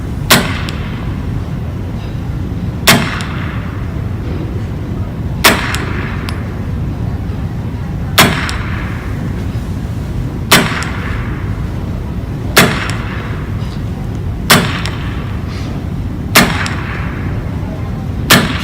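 A 100-year-old firearm mechanism fires rounds at a slow steady pace, each sharp report ringing out roughly every two to three seconds over a constant low background rumble.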